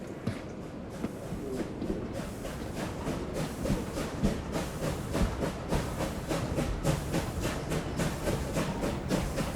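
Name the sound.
steam train running on rails, audio drama sound effect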